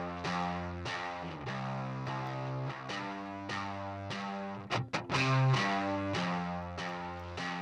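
Baritone guitar played through an amp simulator, a distorted, effects-laden tone strumming a chorus part: rhythmic chord hits with sustained ringing, a brief choppy break midway, then full chords again, loud and upfront with no voices.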